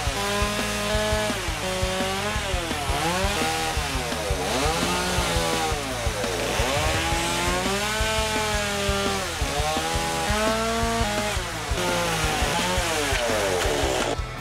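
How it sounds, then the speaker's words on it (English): A chainsaw carving a bear from a wood log runs continuously, its engine rising and falling in pitch as it cuts, loud and close with no talking. "just run your chainsaw in so the ears pop out"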